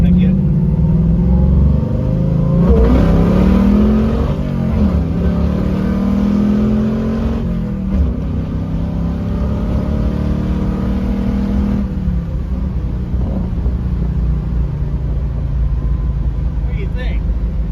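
A borrowed car's engine pulls hard on a country road, a loud, steady roar with rising pitch through the gears and a shift around the midpoint, heard from inside the cabin.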